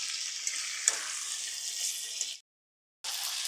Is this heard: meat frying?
yes